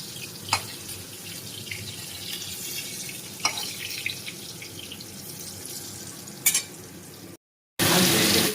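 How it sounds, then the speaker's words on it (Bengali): Slices of eggplant sizzle in an oiled pan with an even hiss, a few sharp clinks of utensils standing out, then a brief drop to silence before a louder burst of sizzling. "এই যে বেগুন ভাজা আমি বসিয়ে দিয়েছি"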